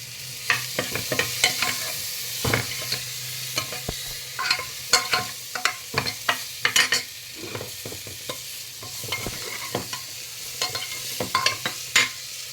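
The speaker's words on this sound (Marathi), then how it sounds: "मी हा फ्लावर एक वाटी कापून ठेवलेला तो घालत आहे" Chopped cauliflower is stirred into a sizzling pan while making pav bhaji, a steady frying hiss under frequent sharp scraping and clattering of the spoon against the pan, close and continuous with no talk.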